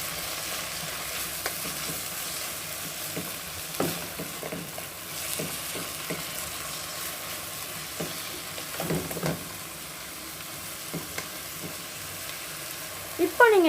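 Vermicelli pulao frying in a pan as it is stirred, with a steady soft sizzle and intermittent scraping strokes of a spoon, close and moderate in level with no voices.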